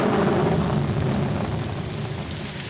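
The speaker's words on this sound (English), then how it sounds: "Put this top up. It's going to rain." Rain falls in a 1947 comedy film scene, a dense steady hiss of rainfall with low rumbling underneath, fairly loud and slowly easing, with no voices.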